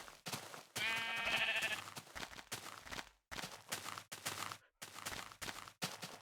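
A sheep bleats loudly and close by, a wavering cry, followed by scattered short bleats and shuffling noises outdoors.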